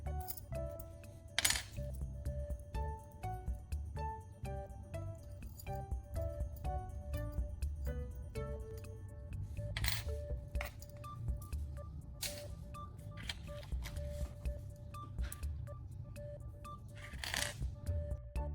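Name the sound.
metal keys being handled and clinking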